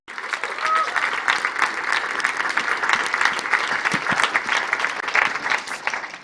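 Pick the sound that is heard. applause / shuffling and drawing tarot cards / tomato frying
applause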